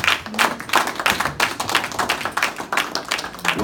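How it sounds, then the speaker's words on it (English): Audience applause following a personal talk, with uneven, pulsing clapping from a modest crowd at close range, individual hand claps distinct and the sound swelling and dipping without words. "Let's give Alex another round of applause."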